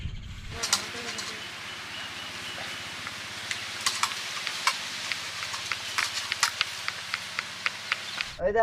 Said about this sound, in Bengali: পনির ভাজা শুরু করে